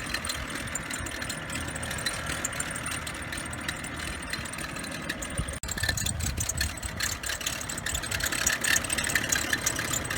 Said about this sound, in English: can you hear that? That's my belt tensioner.